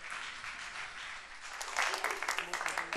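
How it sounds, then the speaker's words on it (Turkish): An audience breaks into applause for an older man, moderate clapping swelling in the second half, with background voices mixed in. "Bir alkış gelir mi abime?"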